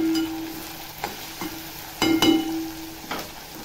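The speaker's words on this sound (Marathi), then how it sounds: "आता टोमॅटो टाकते। टोमॅटो टाकल्यावर चांगलं असं परतून घ्यायचं।" Chopped tomatoes and onion fry in a pan while a spoon stirs and scrapes them in a few distinct bursts over a soft, steady sizzle.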